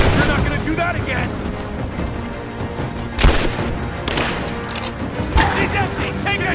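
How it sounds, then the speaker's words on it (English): Gunfire in the video game Rise of the Tomb Raider, a few sharp loud shots cutting through a dense, busy mix of game music and shouted voices. "Covering fire! I'm taking fire!"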